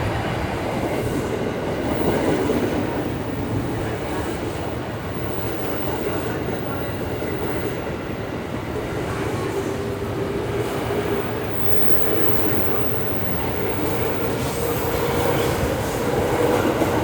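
A Parahyangan passenger train of PT Kereta Api Indonesia rumbles steadily into a station in Indonesia, low mechanical drone with rhythmic wheel noise and a faint squeal, moderately loud and continuous.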